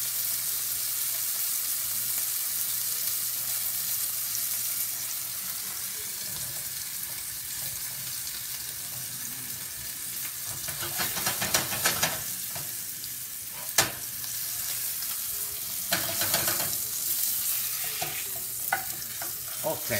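Steak searing in oil in a pan for steak pizzaiola, a continuous sizzle that grows busier midway, with bursts of crackling spatter and a few clatters of utensils, no one speaking.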